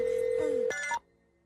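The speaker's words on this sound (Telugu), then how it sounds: "ఏ రింగ్ అవుతుంది రింగ్ అవుతుంది." A telephone rings during a call in a Telugu thriller film, with a steady electronic tone followed by a short, brighter ring burst that cuts off abruptly into near silence.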